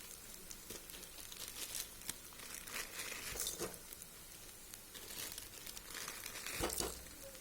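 Maggi instant noodles go into a pan of oil with fried onion and green chilli, giving soft crinkling and rustling against a faint low sizzle, close and fairly quiet with no talking.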